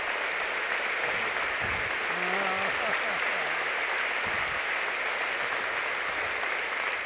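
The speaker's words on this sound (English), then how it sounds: "How about a great round of applause for the two great coaches in the building tonight?" An arena crowd applauds two visiting basketball coaches at an evening event, a dense steady roar of clapping filling the whole stretch with some faint voices mixed in.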